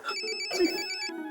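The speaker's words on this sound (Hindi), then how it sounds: "तेरा फोन बज रहा है" Mobile phone ringtone ringing in a tense police drama scene, a repeating electronic melody with steady pulsed tones, fairly loud and close, continuing on its own with no talk over it.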